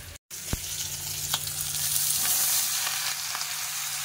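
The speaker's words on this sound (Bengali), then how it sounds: "মাছের তেল ছিল, সেই তেলের মধ্যে পেঁয়াজ কুচি দিয়ে দিলাম আর এই যে মাছের পটকাটাও দিয়ে দিলাম" Chopped onion and fish air bladder frying in fish oil, a steady loud sizzle with occasional stirring knocks, alone without talk.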